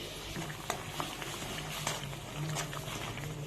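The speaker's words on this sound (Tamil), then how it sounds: "இப்போ தண்ணி நல்லா கொதிக்க ஆரம்பிச்சிருச்சு" Water boils in a pot for an agar agar coconut milk pudding, with a steady bubbling simmer broken by scattered small pops and splutters, close and fairly quiet.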